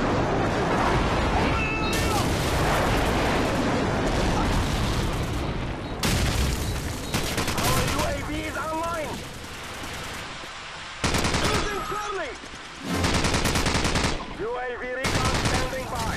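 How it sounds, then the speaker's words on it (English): Turret gunfire in Call of Duty 4 multiplayer, fired in long sustained bursts of rapid automatic shots broken by short pauses, loud and close, with gunfire and explosions layered through the mix and someone talking over it. "I'm just shooting randomly, spraying and praying with the turret"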